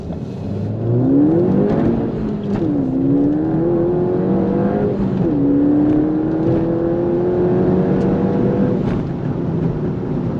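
Stage 2 turbocharged Ford Fiesta ST engine accelerating hard through the gears, the tone climbing steadily, dropping briefly at shifts, then rising again, heard up close with no talk.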